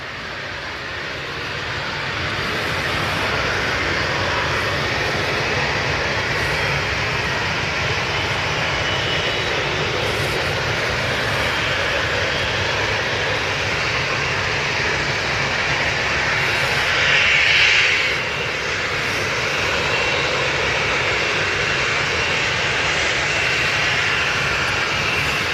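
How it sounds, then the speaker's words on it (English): Steady, loud jet engine roar from a Cessna Citation on the runway at Manchester Airport, a broad continuous rush that swells briefly toward the end, with no talking. "that citation's just entered the runway"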